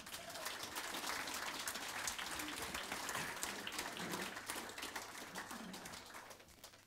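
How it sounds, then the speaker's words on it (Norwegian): Audience applause at a live Norwegian comedy panel evening, steady dense clapping from a crowd filling the whole stretch and tapering slightly toward the end. "Ta, gi dem en god applaus!"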